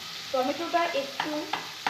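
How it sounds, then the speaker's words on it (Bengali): Spatula stirring and pressing tomatoes as they fry in a covered pan on low gas heat, soft scraping strokes with a gentle sizzle and a few sharper taps near the end. "খুন্তি দিয়ে একটু চেপে চেপে দিচ্ছি যাতে তাড়াতাড়ি গলে যায়।"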